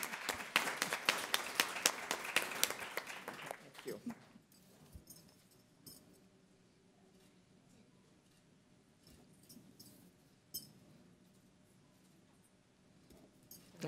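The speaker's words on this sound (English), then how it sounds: "Big round of applause, please." Audience at a community awards event claps loudly for roughly four seconds. The applause then fades to a quiet room with scattered sounds and faint talk.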